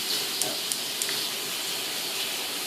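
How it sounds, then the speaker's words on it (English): Bacon rendering in a hot pan, a steady, close broadband sizzle and hiss with a few small pops and crackles, unbroken for the whole moment. "we're going to start with the bacon in a hot pan. And we're just going to render it"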